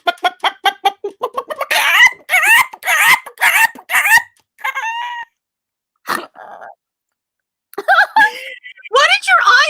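A human voice imitates hens clucking, giving rapid staccato clucks that build into longer squawking calls with short pauses between bursts, loud and close.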